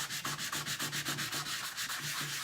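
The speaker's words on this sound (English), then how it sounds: "It's going to take forever if I use this sanding block." Hand sanding of metal drawer hardware with a sanding block: a steady, rhythmic back-and-forth rasp, close and continuous, with each stroke clearly audible and no voices.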